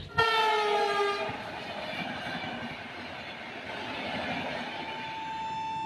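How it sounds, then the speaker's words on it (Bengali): A train horn blares briefly, then the Kanchanjunga Express passenger train rolls in with a steady rumble and rising clatter of wheels on track. "তো আমাদের ট্রেন অলরেডি মোটামুটি চলে এসছে"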